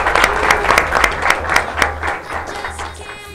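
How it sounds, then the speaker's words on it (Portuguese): An audience bursts into applause, dense clapping that is loud and close at first and then gradually thins and fades over a few seconds. "Palmas para ele, gente."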